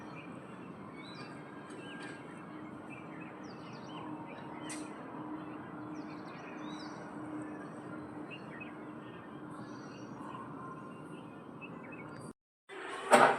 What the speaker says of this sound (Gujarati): અને આ બાજુ પંખી બોલે છે.